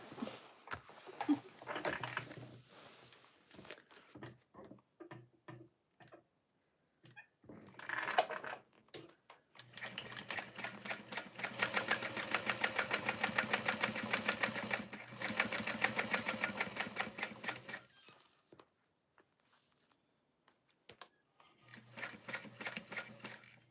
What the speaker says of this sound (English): Also sewing black on black on black with black thread.